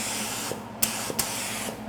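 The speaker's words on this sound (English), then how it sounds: "I'm gonna spray this." A spray gun lays down silver and graphite candy paint in a steady, continuous hiss of atomized coating, with a few brief sharper bursts from the trigger and airflow along the way.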